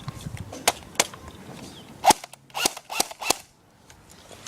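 Sharp snapping shots from an airsoft gun fired at the ground ring out one by one at an uneven pace, close and crisp, with quiet gaps between the pops.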